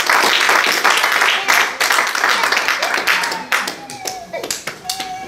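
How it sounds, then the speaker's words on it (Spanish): A church congregation claps for the Lord during a sermon on fasting: loud, dense clapping that thins into scattered, individual claps toward the end, with some voices underneath. "Denle un aplauso al Señor"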